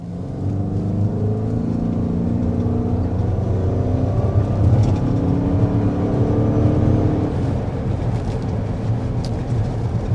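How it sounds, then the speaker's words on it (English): A 2025 Lincoln Nautilus hybrid accelerating hard to 60 mph, heard from inside as a steady engine and road drone with rising tones, moderately loud and continuous, with no talk. "first we want to go ahead and start with a hard acceleration"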